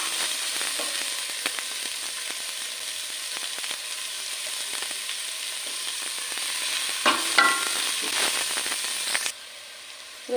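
Onion and salt fry in a pan for a masala curry, a continuous close sizzle with scattered stirring clicks and a brief louder crackle near the end before the sizzle abruptly drops away.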